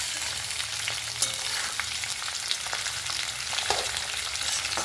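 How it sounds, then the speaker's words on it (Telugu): Thin slices of bitter gourd fry in oil in a pan, a continuous moderate sizzle and crackle with occasional small pops and light stirring, no voices. "బాగా బ్రౌన్ కలర్ వచ్చే వరకు వేగించుకోవాలి."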